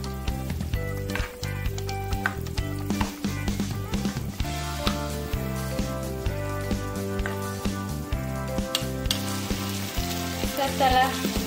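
Carrots stir-frying in a pan produce a loud, continuous sizzle throughout, with steady frying crackle close by and faint clatter; a tonal background, like music, runs underneath.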